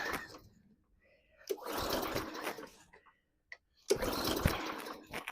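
A lawn mower engine being cranked after starting fluid is sprayed in: two separate bursts of rough, whirring turnover, each lasting about two seconds, close by, with a quiet gap and a brief click between them.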